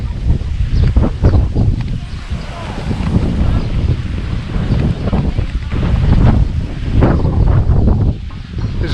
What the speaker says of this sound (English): It's a bit windy today. You probably won't be able to hear us anyway.